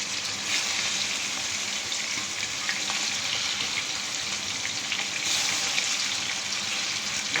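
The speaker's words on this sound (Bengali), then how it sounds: "এখন এই তো আমার মুরগিগুলোকে আমি ভেজে রাখবো" Chicken pieces frying in oil in a home kitchen, giving a steady broadband sizzle that holds evenly throughout, with a brief louder swell partway through and no talking.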